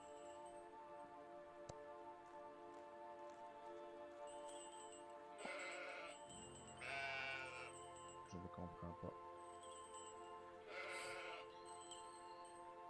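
Sheep bleat in the video game Old Man's Journey, several wavering calls in a row over a steady layer of soft, sustained musical tones. Someone speaks briefly.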